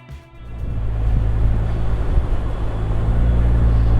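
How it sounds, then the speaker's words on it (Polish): Turbocharged Vanderhall Venice three-wheeler with an old-school sounding exhaust, its engine settling into a steady, loud low rumble after a brief dip at the start, close by with no talk. "Do tego bardzo fajnie dopracowany, oldschoolowo brzmiący wydech"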